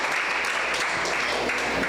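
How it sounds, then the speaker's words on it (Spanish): A church audience gives a round of applause, a dense, even, continuous wash of clapping that stays loud and unbroken for two seconds. "vamos a darles un aplauso"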